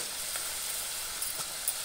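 Mustard seeds sizzling in hot oil for a jackfruit curry, a continuous close hiss with a few faint crackles and pops.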